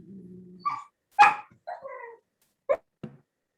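A puppy barks and yips in short bursts, several separate high-pitched yelps close by after a low rumble, with no talk over it.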